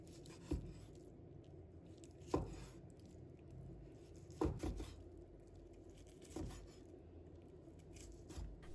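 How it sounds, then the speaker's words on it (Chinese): A knife slices cooled pork belly into thin pieces on a cutting board, producing four separate soft chopping thuds spaced about two seconds apart in a quiet room. "五花肉放凉过后，把它切成薄薄的厚片，也不要切太厚"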